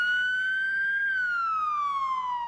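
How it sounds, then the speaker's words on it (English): An ambulance siren wails in a single long, smooth tone that rises slightly and then falls, loud and clear with faint road rumble beneath and no speech. "The sound of a man being taken off in an ambulance"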